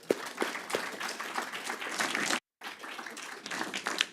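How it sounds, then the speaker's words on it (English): A crowd claps and applauds steadily, with a brief moment of silence partway through before the clapping picks up again. "And so let's give Sandy a round of applause."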